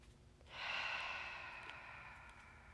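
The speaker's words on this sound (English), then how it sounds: "One more big breath." A single long, deep breath drawn in during a relaxation pose at the end of a yoga session. It swells in, then eases out slowly, close and quiet, with no talking.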